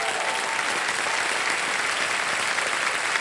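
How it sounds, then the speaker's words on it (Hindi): Studio audience on a televised quiz show bursts into loud, sustained applause, a dense even wash of clapping that fills the whole stretch without pause. "और एक बार फिर जोरदार तालियां बज जाएं।"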